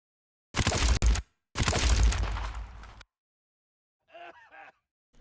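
A death vocalization sound effect from a Modern Warfare video game: two harsh, noisy gasping bursts close together, followed after a pause by a faint, short strained vocal groan.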